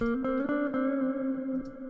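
A steady, sustained guitar line at its original recorded pitch in a mid register, notes ringing evenly with faint rhythmic plucks under them.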